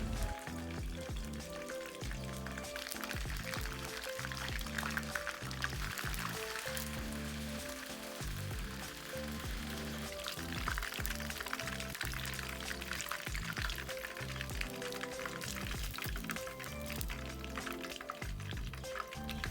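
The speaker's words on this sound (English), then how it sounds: "Fry until all of them turns golden brown" Steady, loud sizzling and bubbling of prawns deep frying in hot oil, continuous and close, with no talking.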